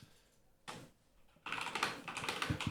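Rapid clicking of keys on a computer keyboard, close and dry, starting quietly and then settling into a dense, steady run of keystrokes with no voices.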